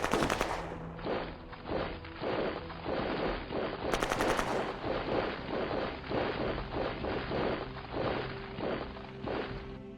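Battle gunfire from the strategy video game Shadow Empire: dense, continuous machine-gun bursts and rapid shots rattle throughout, loud and close, with a sharper crackling volley near the middle and no talking.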